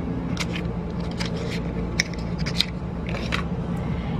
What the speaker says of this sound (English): So let's open the product.